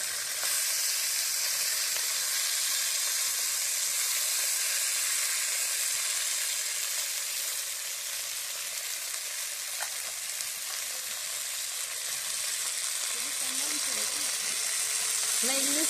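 Fenugreek leaves sauté in a hot pan with a loud, unbroken hiss up close, with a faint stir or two and a voice speaking briefly near the end.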